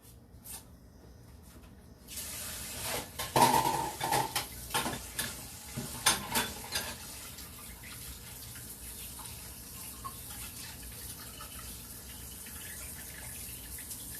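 Running tap water splashes into a sink with brief clatters of dishes being handled, fairly quiet and steady throughout.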